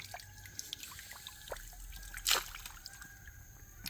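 Clear water trickles and drips in a forest-style areca farm garden, a faint, close dribble with scattered small drops and one brief splashy burst midway.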